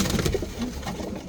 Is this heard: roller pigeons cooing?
yes